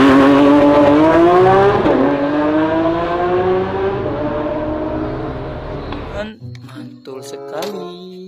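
A Lamborghini engine revs loudly and closely, its pitch climbing and wavering for about six seconds before cutting off abruptly, followed by a few faint clicks and softer sounds.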